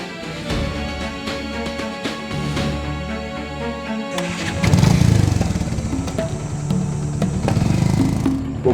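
A motorcycle engine runs steadily nearby, its rumble swelling louder midway, under a dense layer of dramatic background music.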